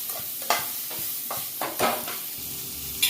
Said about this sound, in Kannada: ಹೈ ಫ್ಲೇಮಲ್ಲೇ ಫ್ರೈ ಮಾಡ್ಕೊಳ್ಳಿ.